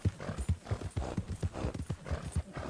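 Horse hooves galloping in Red Dead Redemption 2, a rapid, steady clip-clop rhythm close up and fairly loud, running alone without talk.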